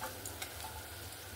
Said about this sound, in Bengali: ওই তেলের মধ্যে আর বাদ বাকি যে বড়াগুলো আছে সেগুলোও ভেজে নেব।